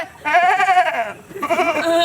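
A voice imitates a goat with two wavering, nasal bleats separated by a short pause, loud and close.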